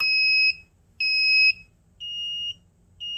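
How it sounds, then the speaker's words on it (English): An Arduino-driven active electronic buzzer sounds in four even half-second beeps, each separated by a half-second pause, loud and shrill with nothing else around it. "it'll turn the active buzzer on for 500 for half a second, then turn it off"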